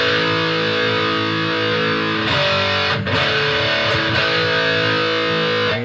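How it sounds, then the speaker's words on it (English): Vintage 1980s Kramer electric guitar with original EMG pickups and a Floyd Rose bridge, played in high-gain single-coil mode: loud, heavily distorted sustained chords and riffs ringing out steadily with a few sharp picked attacks, no talking. "Now let's hear it in high gain in single coil mode."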